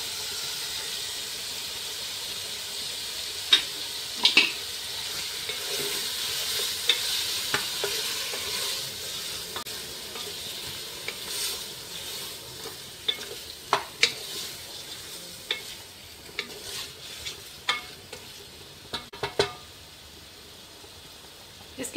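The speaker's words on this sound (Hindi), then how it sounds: "थोड़ा सा गोश्त को इसमें भूनने के बाद" Meat sizzling and frying with spices in a pan, with a steady soft hiss and scattered sharp crackles and stirring clatters, no talking.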